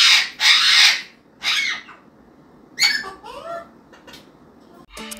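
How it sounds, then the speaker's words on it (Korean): A Senegal parrot lets out a few harsh, raspy screeches, then squeaky rising chirps and a short burst of calls, close by in an indoor room. "쌍코뇨 앵무새가 날아왔어요."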